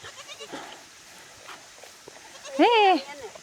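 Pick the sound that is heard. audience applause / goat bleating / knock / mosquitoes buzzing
goat bleating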